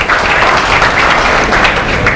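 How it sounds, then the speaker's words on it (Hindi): Students in a classroom lecture applauding loudly, a dense steady burst of many hands clapping. "एक बार जोरदार तालियां बजा लीजिए अपने लिए"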